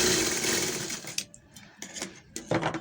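A sewing machine sews a straight seam on cloth with a close, steady whirr that breaks into short stops and clicks near the end.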